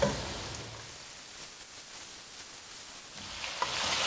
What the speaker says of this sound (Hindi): चिकन को तकरीबन 5 मिनट तक फ्राई करना है।